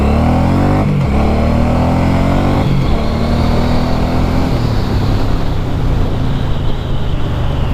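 A Suzuki M109R cruiser motorcycle accelerates hard, its deep engine note climbing through gears with two audible shift dips before holding a loud, steady roar close by, no voices.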